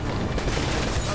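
Rapid gunfire in Uncharted: Drake's Fortune, a dense continuous fusillade of shots filling a brief moment, loud and close over a noisy game mix.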